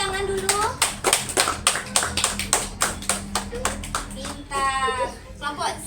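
A burst of rapid hand clapping from a class of children, sharp claps in a steady rhythm, with children's voices chattering briefly near the end.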